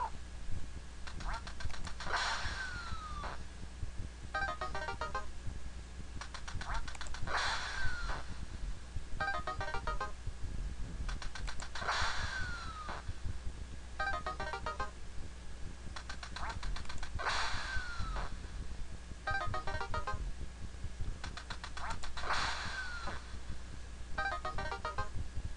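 Ducks quack in repeated bursts from the NES game Duck Hunt, played on an emulator, alongside electronic game jingles and beeps at a steady loop, with no talking.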